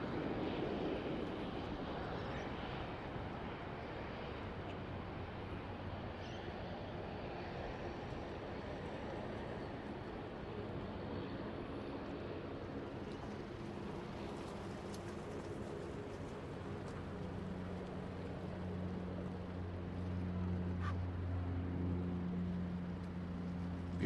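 A Cathay Pacific Airbus A350 jet at Sydney Airport, its steady engine roar filling the air with a broad, sustained rumble that holds level throughout and swells slightly near the end, with no voices.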